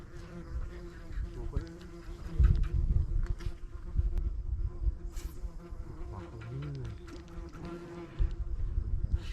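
Several bees buzz close by while fishing for zander with a jig, their droning rising and falling with occasional louder passes against a low outdoor background.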